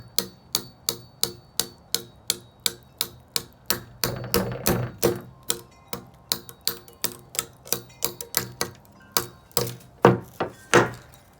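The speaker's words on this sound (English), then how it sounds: "keeping my fingers away from the cutting area, and very lightly tapping on the knife" Light, steady knife taps split a length of bamboo into coffee stirrers, about two strikes per second of sharp woody clicks, close and clear, growing denser and louder near the end with no talking.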